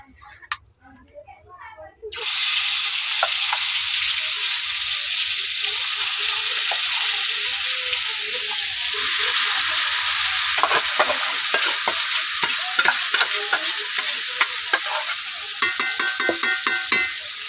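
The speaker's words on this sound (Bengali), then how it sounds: "তেল গরম হয়ে গেছে কড়াইয়ের মধ্যে, তার মধ্যে আস্তে আস্তে মাংসটা তুলে ছেড়ে দেবো, দিয়ে ভালো করে কষিয়ে নেবো" Chicken pieces dropping into hot oil in a kadai burst into a loud, steady sizzle that continues with stirring scrapes and clinks, after a quiet start; someone talks over the frying.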